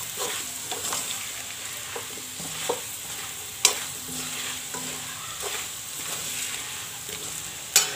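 Potatoes frying in a pan with turmeric, chili and coriander powder, heard as a steady sizzle broken by regular scraping stir strokes and occasional sharp clinks of the spoon.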